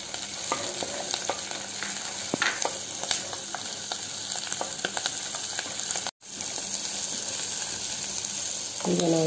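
Tomato and curry leaves sizzle and crackle steadily in a hot pan while making challe kai pallya, with occasional scraping stirs, close and continuous.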